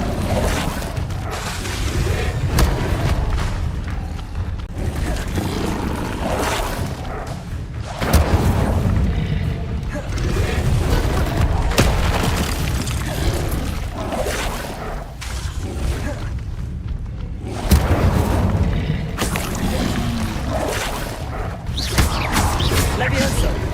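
Incendio fire spells are cast again and again in Hogwarts Legacy combat, producing heavy booming whooshes and blasts in a dense, continuous roar. A voice can be heard over the spell sounds.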